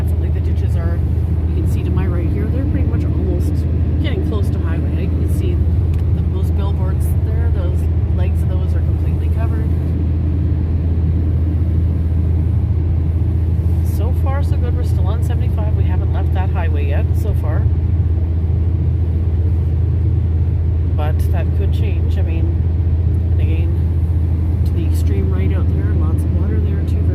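A car drives along a highway, its steady road rumble and tyre noise continuous and loud from inside the cabin, with a person talking over it throughout.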